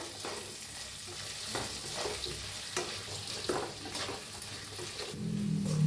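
Potatoes coated in turmeric, red chilli, coriander and cumin powder are stirred in a frying pan, giving a soft continuous sizzle with repeated scraping strokes close by, no voices.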